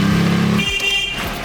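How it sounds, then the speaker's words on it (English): Short, loud blasts of a car horn at a shop fitting a Kia K5 during a chrome delete, one sustained honk cutting off and giving way to a higher-pitched tone. "When we put them together, we have one car horn."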